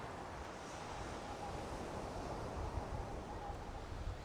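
Strong storm wind roars across an exposed seashore at Trimingham, a loud continuous buffeting rush mixed with surf, steady and close to the microphone with no pauses.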